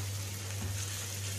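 Minced meat frying in oil in a pan while being stirred, a steady soft sizzle close by with a low hum underneath and no talk.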